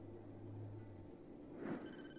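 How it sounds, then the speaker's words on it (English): A mobile phone goes off indoors, a short electronic ringtone rising briefly over a quiet background hum, faint and brief, with no talking. "Sorry, my phone's going off."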